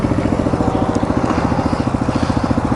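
A cold dirt bike engine idles on choke with a steady, fast single-cylinder putter. The pulses repeat evenly and sound close and loud the whole time, with no talk over them.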